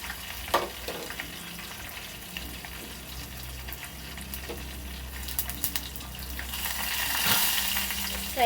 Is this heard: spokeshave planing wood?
no